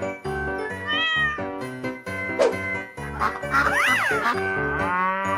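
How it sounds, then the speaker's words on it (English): A cat meows repeatedly, with clear, loud, rising and falling cries running back to back in a children's animal-sounds sequence, with no talking. "Cat."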